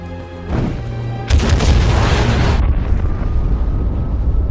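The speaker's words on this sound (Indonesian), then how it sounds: "menyelinap di sela-sela gedung tepat beberapa detik sebelum terjadi ledakan hebat" A huge explosion in an action movie scene erupts into a loud, roaring blast, followed by a sustained rumbling fireball and debris noise that slowly settles.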